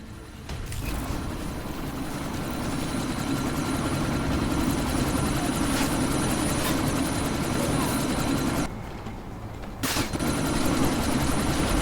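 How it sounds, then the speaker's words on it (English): Helicopter in the video game Deus Ex: Mankind Divided, a dense steady rotor and engine roar amid a sandstorm, continuous and fairly loud with a brief dip near the end, some voices faintly underneath. "you need to disable that chopper"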